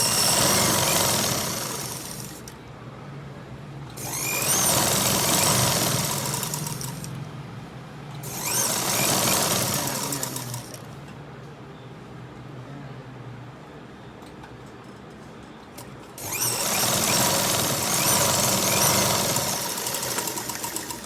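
A sewing machine stitches the folded edge of shorts in three long, loud runs of rapid mechanical chatter. Quieter pauses come between the runs.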